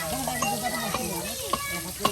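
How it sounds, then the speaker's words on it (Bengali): Chicken meat frying in a pan gives a steady sizzle with a few sharp pops, while voices talk over it throughout. "এই যে মাংস কিন্তু একদম করে ভেজে নেওয়া হলো।"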